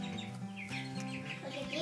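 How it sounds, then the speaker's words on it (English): Meat King broiler chicks in a brooder give soft, continuous chirping and peeping with some low clucks, a busy chatter of many birds close by but faint overall. "Look at these chickens."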